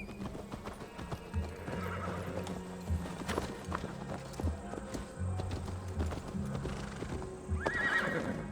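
In Assassin's Creed Valhalla, a horse's hooves clip-clop in a fast galloping rhythm while it neighs and whinnies, with occasional thuds and game ambience; a faint voice may be present.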